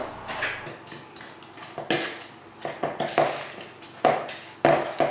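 Butter and sugar being mixed in a bowl, with repeated clattering knocks of a utensil against the bowl in an irregular rhythm, close and loud.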